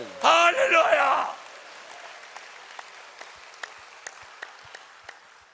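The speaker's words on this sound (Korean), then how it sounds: "믿으시면 박수치며 아멘 하시기 바랍니다." A church congregation at a Sunday evening service in Korea calls out together in a loud burst of voices, then scattered, sharp individual claps continue faintly and unevenly as the sound dies down.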